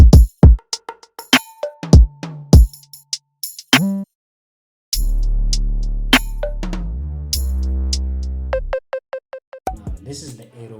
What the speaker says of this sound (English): This is the 808 that carries the beat.